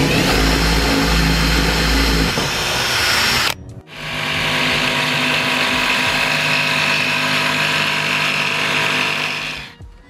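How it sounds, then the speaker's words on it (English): A jigsaw cuts along a line through a cabinet board during an Airstream trailer renovation: a loud buzzing motor runs, stops briefly near four seconds, then resumes in one long, steady cut before shutting off. "I can get my jigsaw in there and start cutting along this line"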